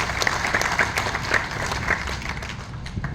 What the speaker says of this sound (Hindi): तालियां हो जाए जरा इनके लिए।